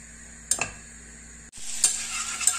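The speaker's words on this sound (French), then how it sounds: "Le beurre a bien fondu." Butter melting in a pan for a béchamel, giving a faint, steady sizzle with a few light clicks of a utensil against the pan and a brief dip partway through.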